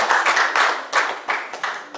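A youth Sunday church congregation claps in a moderate, uneven series of bursts, fairly close with no voices over it.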